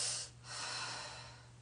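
A single long, airy breath is drawn close to the microphone during a yoga exercise, soft and steady over a low electrical hum.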